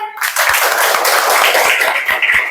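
A classroom of students claps for a classmate during a lesson, a loose, moderately loud burst of hand claps with a few sharper individual slaps standing out, lasting a couple of seconds.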